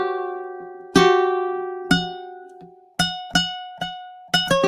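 A ukulele plucked to imitate a Japanese koto, with bright single notes and strums ringing out and decaying, played close and unaccompanied in an uneven, sparse rhythm.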